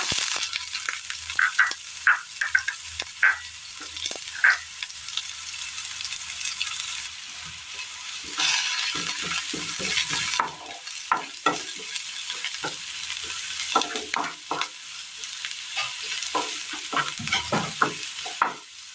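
Onion and mustard seeds sizzle and fry in oil in a pan for a curry, with a steady hiss and repeated close scraping stirs, without talk.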